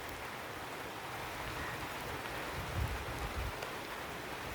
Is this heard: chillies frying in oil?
no